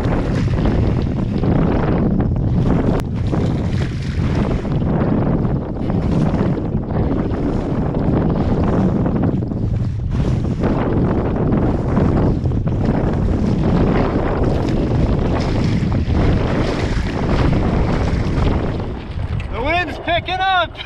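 A Sunfish sailboat crosses two-foot waves in strong wind. Heavy wind buffets the microphone throughout, mixed with the churning wash of water, loud and continuous for about twenty seconds.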